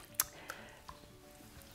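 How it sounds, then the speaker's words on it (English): A skein of superwash yarn being dunked up and down in dye water in a jug gives soft, faint liquid drips and squishes, a few brief splashy sounds scattered across a quiet background. "And then proceed to dunk it up and down, rotate it over the spoon."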